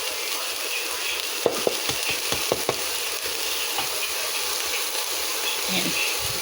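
Chili peppers dropped into a pan of frying pork and chicken adobo, giving a steady sizzle with a few sharp crackles and stirring clatters, close and fairly loud.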